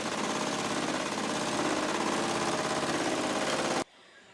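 A sewing machine stitches the bottom of a skirt pocket, its steady rapid motor hum and needle chatter running loud and continuous for nearly four seconds before stopping abruptly.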